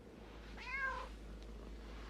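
A cat gives one clear, drawn-out meow over a low steady hum, fairly close and isolated.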